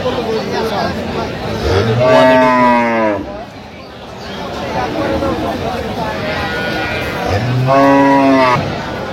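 A cow with her calf at the Aftabganj cattle market lets out two loud, drawn-out moos several seconds apart, close by, while people chatter in the busy market around her.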